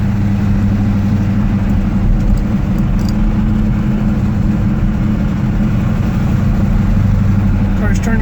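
A 1972 Chevelle SS clone with a four-speed runs at about 1,500 RPM while cruising near 30 mph, a loud, steady low engine drone heard from inside the car.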